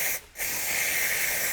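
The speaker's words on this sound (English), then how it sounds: "Just clean the area with some brake cleaner" Brake cleaner aerosol sprayed around the oil drain plug of a BMW F20 116d during an oil service: a loud, steady hiss close by, briefly interrupted near the start, then continuing unbroken to the end.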